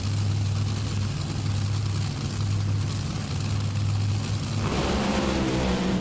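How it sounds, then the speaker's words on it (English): A top fuel dragster makes a race run at an NHRA drag racing event in Sonoma, California, a loud, continuous engine roar that shifts in tone near the end, with no talk. "He smokes the tires, and Tony hangs on"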